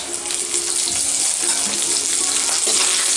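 Small whole onions, garlic and chillies fry in hot oil for a Kerala-style crab curry, giving a dense, steady close-up sizzle with faint stirring and no voices.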